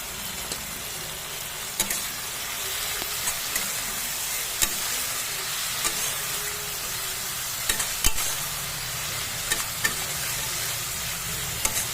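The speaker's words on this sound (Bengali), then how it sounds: "মশলাগুলো ভালো করে নাড়তে হবে" Spiced mushroom masala with onions sizzles steadily in a pan while a spoon stirs it, sharp scraping knocks recurring every second or two over the continuous close frying hiss, with no talking.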